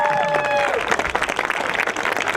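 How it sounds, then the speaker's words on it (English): Audience applause for students at a prize event rises under a voice at first, then continues as dense, uneven clapping from the crowd. "Let's give these kids a round of applause, these students a round."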